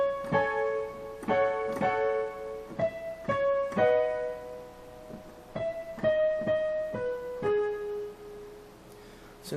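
A piano plays the right-hand melody of a song in single notes, struck one at a time with sustained ringing decays, close and clear with no voices.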